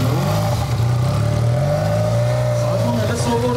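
A Benelli motorcycle engine at a motor festival, a loud continuous revving drone with rising and falling pitch, close by and steady throughout, with a voice talking faintly underneath.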